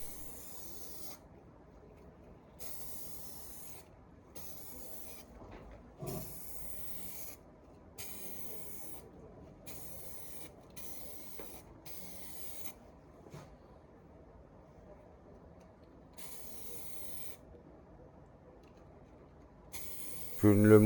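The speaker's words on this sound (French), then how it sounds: "Je commence par appliquer la bombe à l'intérieur du casque." Aerosol spray paint can hissing inside a German Luftwaffe steel helmet during restoration, smooth Luftwaffe colour coat, in repeated short bursts of about one to two seconds separated by pauses, close and moderately loud.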